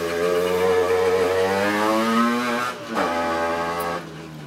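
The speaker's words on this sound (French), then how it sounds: "je laisse passer un petit peu les motos là" Motorcycles pass by loudly, their engine notes rising and falling in strong harmonic tones as one machine closes in and moves away before another follows.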